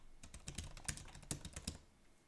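Quick bursts of keystrokes on a computer keyboard, close and faint, tapping in a rapid uneven rhythm for a couple of seconds.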